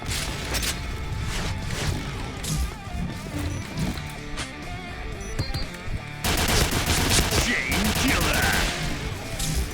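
Rapid bursts of Pindad SS3 rifle fire in the shooter game Point Blank, loud and close, coming in repeated volleys with short gaps, mixed with other in-game effects and heavier fire toward the end.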